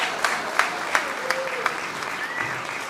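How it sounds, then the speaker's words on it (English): Banquet audience at an anniversary honors dinner applauding the servers and kitchen staff, sustained clapping with a few sharp louder claps standing out and a voice audible faintly beneath. "How about a round of applause for our servers and for our people out in the kitchen tonight?"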